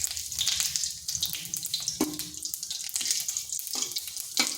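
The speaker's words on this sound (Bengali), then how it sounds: "তেলটা ভালোভাবে গরম হয়ে গেছে, দিয়ে দিচ্ছি জিরা, গোটা জিরা, একটা তেজপাতা" Whole cumin, a bay leaf and dried chillies hit hot oil in a pan, giving a bright crackling sizzle with a few sharper pops and stirring clinks, close and alone without talk.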